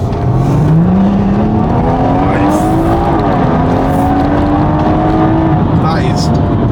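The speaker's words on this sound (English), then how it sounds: "I'm going to open that window just so you can hear that exhaust note a little bit more" Stage 2 plus tuned BMW M140i accelerating hard on the road, heard from inside the car with the exhaust note rising in pitch through a gear, dipping at a shift, then climbing again, loud and continuous with a faint tire squeal.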